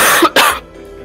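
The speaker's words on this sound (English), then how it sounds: "Got a little cough." A single sharp cough with a quick follow-up, like clearing the throat, loud and close to the microphone, then silence.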